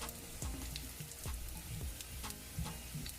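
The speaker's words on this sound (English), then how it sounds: "over here I'm frying some plantain." Plantain slices sizzle and crackle in hot oil in a pan, a steady fizzing bed with repeated soft pops and stirring clatters, close up and with no talk.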